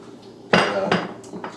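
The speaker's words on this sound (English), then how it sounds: "so we'll whack the pan on" A metal pan set down onto a stovetop for a crustless quiche, a loud clanking knock followed by a second clatter and a few lighter knocks of cookware, close by with no talking.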